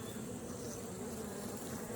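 Honeybee colony treated with SuperDFM, giving a steady, dense buzzing hum that holds even and unbroken throughout, close and moderately loud, with no voices over it.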